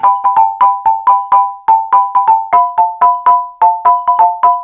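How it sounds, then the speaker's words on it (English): Rapid, uneven bursts of a metallic, bell-like electronic tone from a ring modulator effect on a Joranalogue Enhance 2 synth module, repeating in a choppy stuttering rhythm, loud and close with no voices. "It is kind of ring modulator."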